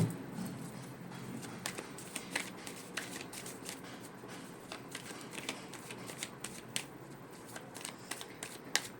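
A deck of tarot cards being shuffled up close, with steady riffling and soft flicking clicks running throughout, quiet and continuous with no voices.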